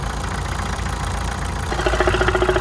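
An Opel Zafira B engine idles loudly and steadily with a fast metallic ticking rattle running through it, growing a little stronger toward the end.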